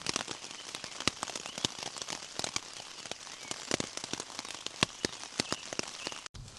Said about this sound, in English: I've always loved the sound against the tent